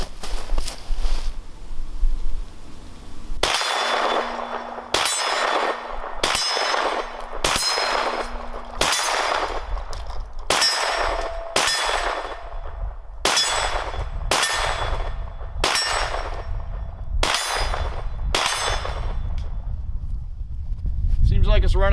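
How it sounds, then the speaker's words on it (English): Glock 17 in a Roni 16-inch carbine conversion kit firing at steel targets about 20 yards downrange, a dozen sharp shots in a steady rhythm, each followed by a ringing clang of steel. "All right, first shots with the Roni."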